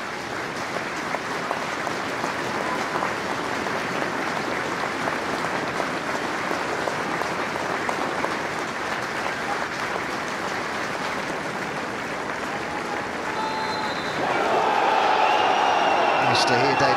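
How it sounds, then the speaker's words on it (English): Football supporters at Moss Rose, Macclesfield's ground, give a minute's applause in memory of two club supporters, steady dense clapping from a large stadium crowd that swells slightly near the end, with some crowd noise and voices mixed in. "there will be now a minute's applause at Moss Rose for two dedicated supporters of the club"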